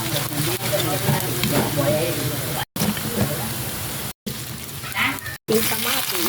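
Garlic frying in oil in a pan for Kapampangan burong tilapia, a steady broadband sizzle that runs throughout and is broken by three brief dropouts, with someone talking over it.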